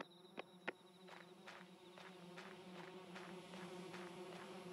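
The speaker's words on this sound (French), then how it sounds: "Des guêpes à trois yeux" Three-eyed wasps buzz in the Yomawari: Lost in the Dark video game, a faint, steady insect drone with rhythmic pulsing wingbeats and a couple of sharp clicks near the start, heard alone without talk.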